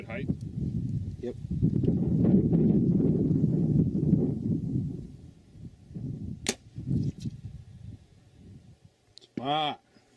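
An arrow is loosed from a recurve bow outdoors on a gusty day, aimed at a distant target. Heavy wind rumble gives way to a sharp snap of release, then a later whooshing strike, with voices talking throughout.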